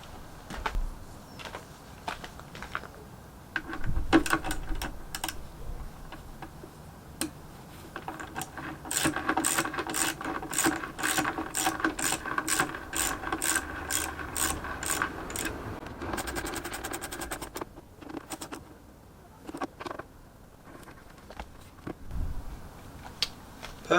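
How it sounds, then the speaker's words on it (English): An Allen key turns bolts on a Kawasaki VN900 Custom motorcycle, giving a long run of rapid rhythmic metallic clicks like a ratchet, close and moderately loud, with scattered clanks of tools before and after. "I'll just go and get the right size Allen key now and then just tighten those up."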